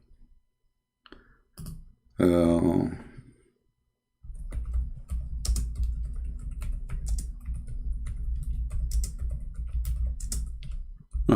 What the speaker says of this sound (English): I'm typing Arabic.